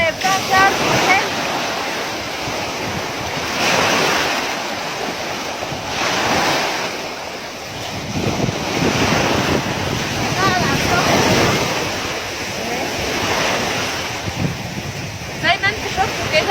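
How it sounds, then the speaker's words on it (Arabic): Surf at Sharm el-Sheikh, waves washing ashore in steady repeated surges with wind buffeting the microphone, fairly loud and continuous. "شايفين البحر بتاع شرم حلو."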